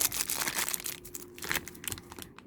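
A plastic bag around LOL Surprise toy packaging is cut open with soft, faint crinkling and crackling rustles in short irregular bursts, with nobody speaking.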